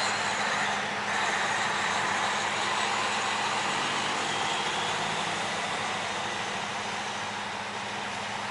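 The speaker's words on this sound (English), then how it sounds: "Come on, big truck." A big truck idles at the Walmart distribution centre in Tomah, Wisconsin, with a steady, droning engine rumble and an even hiss that continue unbroken with no talking.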